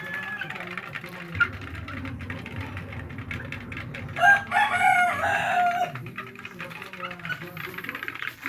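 Chickens cluck and squawk nearby over a steady low background hum, with a louder burst of fowl calls in the middle.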